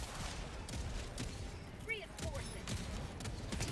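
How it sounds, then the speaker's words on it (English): Verdict semi-auto pistol in Helldivers 2 firing a handful of sharp single shots in an irregular rhythm, set against dense battle noise with other weapons, explosions and voices mixed in. "semi-auto pistol"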